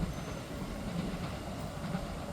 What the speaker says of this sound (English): So here's the train going over.